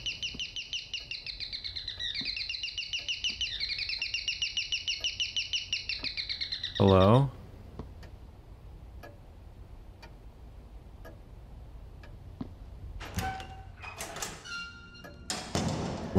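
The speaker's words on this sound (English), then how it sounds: "Not even bird noises are calming in this game" A bird in the video game Devotion chirps in a steady, rapidly pulsing warble for about seven seconds. A single spoken word and scattered clicks and creaks follow.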